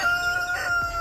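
On a farm, a rooster crows in a short burst, mid-distance, amid the faint clucking of hens.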